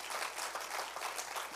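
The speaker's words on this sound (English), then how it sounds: "let's give the Lord a clap offering" A church congregation claps in a dense, steady wash of applause across a large room, with no voices.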